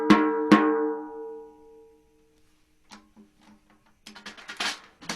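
A jazz drum kit's snare drum hit with the snares switched off gives two ringing, tonal strikes that decay slowly, followed by faint taps and a short burst of brighter clicks.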